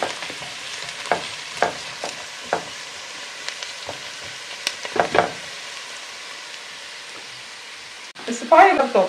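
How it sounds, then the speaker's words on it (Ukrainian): Vegetables cooking in a pot for Ukrainian kapusniak soup, stirred by hand: soft sizzling under a series of scraping spoon strokes, then a louder burst of clattering and stirring near the end, no talking. "Помішуємо овочі."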